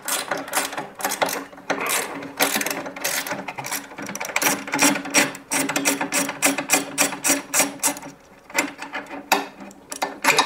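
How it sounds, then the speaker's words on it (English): A ratchet spanner works loose the 13mm bolts holding the motor of a Miele washing machine, giving rapid, loud, close clicking in bursts with short pauses between strokes. "To undo the motor, it's just two bolts on either side, and they're 13mm."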